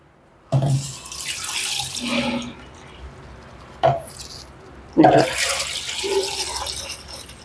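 Water poured into spiced buttermilk in a kitchen vessel, several separate splashing pours starting abruptly and trailing off, with quieter gaps between them.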